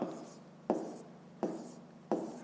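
A pen or pencil writes a decimal number by hand in a maths exercise, making short scratchy strokes with a few sharp taps, close and fairly quiet against a faint steady background hum.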